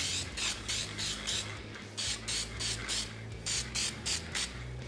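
An aerosol can sprays a coating onto a vintage Yamaha motorcycle seat in repeated short bursts, about a dozen hissing puffs in uneven rhythm over a low background hum.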